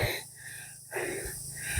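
Heavy, rasping panting from a hiker climbing an uphill trail toward a Dutch fort on Mount Putri, with loud close breaths in a steady in-and-out rhythm over outdoor background noise.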